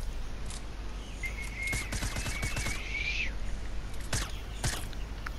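Several sharp gunshots in a Fortnite match, clustered in a quick burst midway and two more isolated shots near the end, moderately loud over a steady game-ambience bed with a rising whistling tone.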